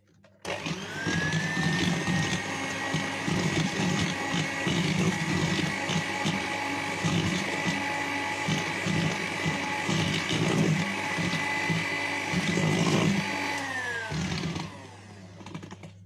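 Electric hand mixer beating warm butter with sugar, egg, melted honey and soda for gingerbread dough, a close, steady motor whine that starts, runs evenly for about thirteen seconds with slight labouring changes, then winds down and stops.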